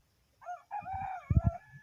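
A white-eared rooster crows once, near and clear, its call rising and then breaking into a loud, rough final burst.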